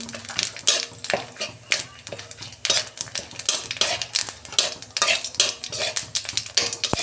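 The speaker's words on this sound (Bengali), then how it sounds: "ওই তেলেতে আমি একটা তেজপাতা দিচ্ছি, গোটা জিরে দিচ্ছি অল্প" Bay leaf and whole cumin seeds tempering in hot oil for a homestyle Bengali fish recipe, with light sizzling under frequent metal spoon clinks and stirring scrapes against the pan, close and busy with no talking.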